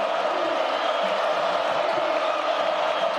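Arena crowd noise at a Texas Tech versus Kansas State college basketball game, a steady loud roar of cheering and shouting filling the whole stretch without letup.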